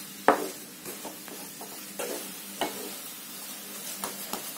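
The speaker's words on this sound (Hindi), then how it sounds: "नारियल का जो चूरा है आप देख सकते हैं उसमें मैं अच्छी तरह से इस तरह से मिक्स कर ले रही हूँ" Desiccated coconut is stirred into milk in a pan on the stove, a soft scraping with faint sizzling and light taps of the spoon, moderately close and without speech.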